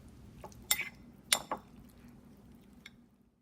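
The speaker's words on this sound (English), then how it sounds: "So now I'm just mixing the tomatoes and the olive oil together." A utensil mixes chopped tomatoes with olive oil in a bowl, giving a few bright clinks and scrapes against the dish, sparse and close, with quiet gaps between strokes.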